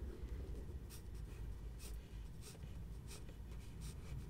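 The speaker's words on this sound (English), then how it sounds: "So if we just draw a rectangle there" Pen drawing a rectangle on paper, faint scratchy strokes in a steady series of short separate lines, close and quiet with no talking.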